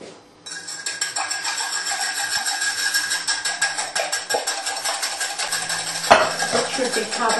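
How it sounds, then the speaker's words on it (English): A whisk beats ingredients in a bowl for a Slovak yeast pastry, a fast continuous metallic clatter and scrape running steadily throughout with a sharper knock near the end, no talking. "I'm going to have to do it with a whisk."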